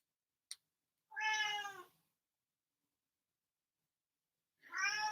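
A pet cat meows from behind a closed door: two long, clear, plaintive meows separated by silence, with a faint tap just before the first.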